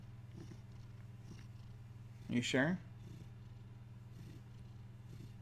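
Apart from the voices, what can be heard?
cat purring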